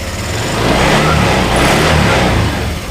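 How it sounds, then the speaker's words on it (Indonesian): A matic 125/150 scooter engine revving hard as the throttle is twisted, a loud close sustained roar that swells and holds for a few seconds with no talking. "Ini biasanya saya gas pelintir."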